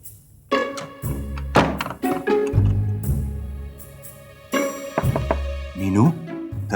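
Loud, close thuds of knocking on a door in several bursts, heavy wooden thunks spaced irregularly, with a voice speaking between the knocks.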